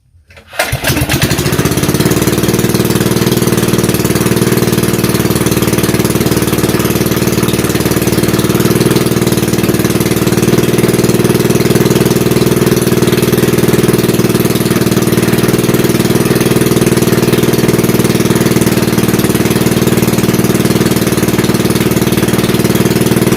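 A small Coleman KT196 go-kart engine sputters to life after a brief crank, then settles into a steady, loud, buzzing idle that continues unchanged to the end.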